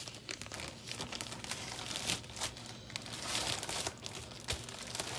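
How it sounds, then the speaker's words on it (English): Plastic Ziploc bags crinkling and rustling as food prep is wrapped in a kitchen, a run of close, irregular crackling bursts with short pauses between handling movements, no talk. "the way I wrap it is that I can use these Ziploc bags again for a different type of preparation"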